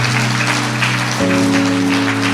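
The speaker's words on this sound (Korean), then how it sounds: "박수 한번 쳐줘." A church congregation at a Korean Sunday service claps together, a steady wash of applause held under sustained keyboard or organ chords that shift midway.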